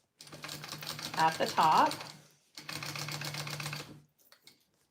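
A sewing machine runs in two short bursts of rapid stitching through a fabric wallet, close and moderately loud, with a brief pause between runs and a few faint clicks at the end.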